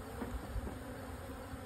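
A dense, steady buzzing of many honeybees at an open hive in October, close and continuous, with faint low thumps underneath.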